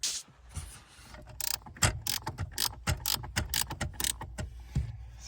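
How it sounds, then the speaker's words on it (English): A ratchet with a 13mm socket turns out clutch pedal bracket bolts on a Ferrari F430 during a manual swap, producing a quick series of close, crisp clicking ratchet strokes in irregular bursts with no talk. "Come under here with a ratchet with a 13mm"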